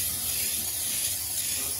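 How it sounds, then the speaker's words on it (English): A steady, continuous hiss of aerosol cooking spray onto a cake pan, close and fairly loud, holding evenly throughout. "we are going to be spraying it with cooking spray."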